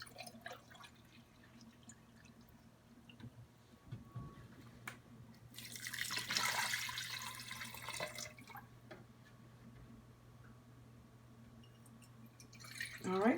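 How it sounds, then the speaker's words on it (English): Water poured from a container into a pot of southern-style turkey wings, a splashing gush in the middle with faint drips around it, fairly quiet and with no clear talk. "now I'm going to go ahead and start adding the water in"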